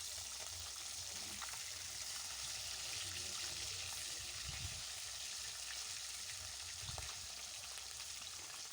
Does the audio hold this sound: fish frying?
yes